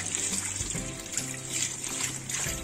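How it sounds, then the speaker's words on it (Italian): Fresh strawberries are rinsed under a running kitchen tap during homemade jam preparation, a steady soft stream of water with faint shifting splashes as the fruit is turned, continuous and fairly quiet. "Roteate le fragole sotto l'acqua corrente."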